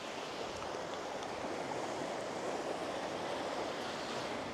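Waves in the wave pool at the Lost Shore surf resort give off a steady, broad wash of rushing water that stays even and full throughout, with no voices.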